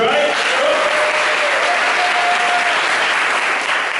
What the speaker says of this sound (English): I want you to clap your hands like there were 300 people in the room.